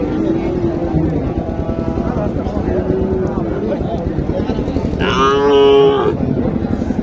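Sahiwal cross cattle at a livestock market, one cow lowing loudly near the end above a constant crowd murmur and nearby voices talking.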